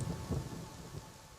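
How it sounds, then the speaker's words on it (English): A stormy night of rumbling thunder over steady rain, short and fairly faint, with low booming swells under the hiss of the downpour. "The skies scream with storms."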